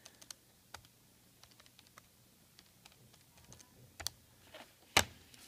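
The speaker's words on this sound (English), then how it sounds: "I just type this into my calculator" Soft, scattered key taps on a calculator as numbers are entered for a chemistry percentage-composition problem, a dozen or so light clicks at uneven pace, close and quiet, with one sharper tap near the end and no talking.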